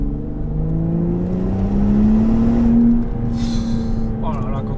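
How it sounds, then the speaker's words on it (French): The six-cylinder engine and turbo of a Volvo V60 Polestar estate drone steadily as it pulls, the engine note rising smoothly in pitch before easing off, loud and continuous with a brief higher whoosh near the end. "Et la sonorité est vraiment bien, le petit 6 cylindres là"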